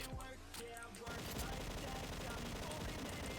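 Rapid, continuous automatic gunfire from the online shooter XSHOT, quiet overall, starting with sparse shots and erupting into a dense, unbroken volley after the first second.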